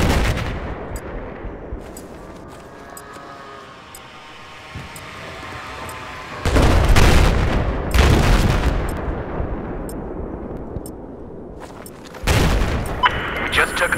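Missile explosions and gunfire in the Battlefield 4 video game on the Dragon Pass map, with loud broadband blasts around 6.5, 8 and 12 seconds over continuous battle noise and voices.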